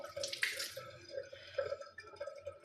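Water runs from a kitchen tap in a steady, fairly faint flow with splashy patches, heard close by without any talk over it.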